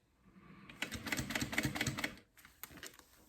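A sewing machine top-stitches a zipper on a fold-over vinyl clutch, giving a quick, rattling run of needle strokes for about a second and a half, a brief pause, then a few more short stitches.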